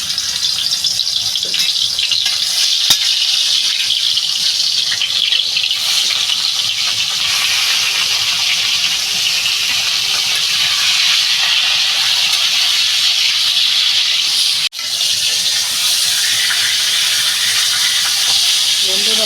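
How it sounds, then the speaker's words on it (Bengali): Fish heads fry in hot oil, giving a steady loud sizzle and hiss that runs for the whole stretch with little change. "তেলটা বন্ধুরা আমার গরম হয়ে গেছে আমি একটা একটা করে ছেড়ে দেবো"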